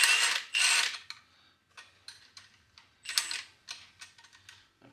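A wrench works a clamp off an S10 truck's suspension, giving short metallic clicks and rattles in irregular bursts with brief pauses between them, fairly close and with no talk.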